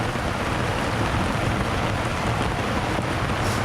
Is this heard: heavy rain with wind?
yes